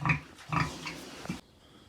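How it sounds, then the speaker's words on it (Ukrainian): A young boar, a six-month-old fattened pig of about 170 kg, grunts loudly and close up in three strong bursts, the last one shorter, before falling quiet. "Зараз витягуємо кабанчика і погнав"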